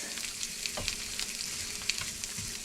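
Sausage patties sizzle in a cast iron pan, a steady crackling hiss dotted with small pops and a few soft scraping touches, close and fairly quiet with no talking.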